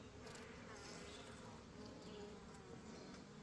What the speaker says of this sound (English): that bee's getting in my face